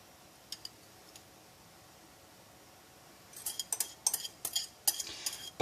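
Wonton soup mixture is beaten in a bowl: after a few faint taps, a quick run of sharp utensil clinks and scrapes follows, close and uneven.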